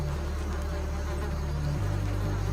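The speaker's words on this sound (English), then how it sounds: "squadrons of carnivorous rainforest wasps" Close, continuous insect buzzing from several carnivorous rainforest wasps, a steady droning hum whose pitch dips briefly as one shifts nearby.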